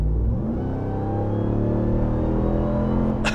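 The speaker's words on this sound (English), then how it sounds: "And that sound, the exhaust, the supercharger, you can't get enough of that." Deep exhaust rumble and supercharger of a 2021 RAM 1500 TRX pickup truck accelerating, a loud continuous low engine roar that rises steadily in pitch, ending with a brief sharp noise.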